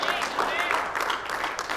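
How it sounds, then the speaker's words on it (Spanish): A church congregation applauds in a dense, steady wash of clapping that fills the short moment at moderate loudness. "Dale fuerte ese aplauso al que lo merece."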